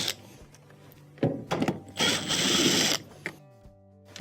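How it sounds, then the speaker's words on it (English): A power driver backs out two T20 Torx screws from a washing machine's dispenser, with whirring bursts including one longer sustained spin, separated by quieter handling sounds, close and fairly loud. "underneath here, we have 2 T20 Torx screws that have to be taken out"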